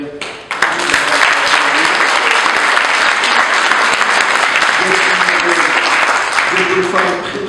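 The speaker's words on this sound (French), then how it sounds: "je vais les applaudir" Sustained audience applause fills a ceremony hall at Les Résilientes, held at the Palais du Luxembourg, loud and dense for about seven seconds after a brief quiet start, with a few voices faintly audible through the clapping.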